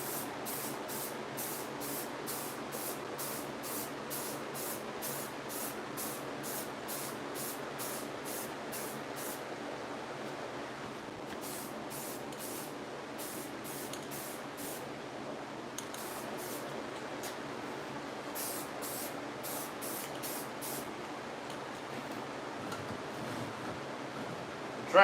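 Primer paint sprayed in a paint shop, heard as a long run of short, evenly repeated hissing bursts with pauses between passes, steady and fairly close, with no talking.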